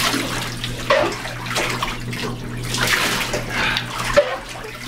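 Water pours and splashes over a dog during a bath rinse, running in uneven bursts with a faint steady hum underneath and brief sharp clatters.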